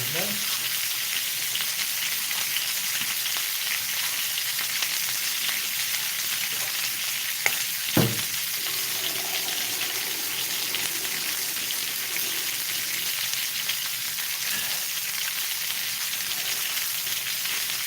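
Chicken sizzles steadily in a pan after a cup of water goes in, a constant bright frying hiss with a couple of brief clinks partway through.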